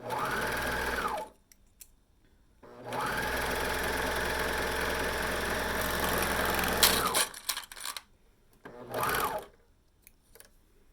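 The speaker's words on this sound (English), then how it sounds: "Just gently stretch the band as you sew here." A sewing machine stitches a neckband onto a t-shirt in three separate runs: a long steady whir, a short burst, then a brief final spurt, with quiet pauses between them.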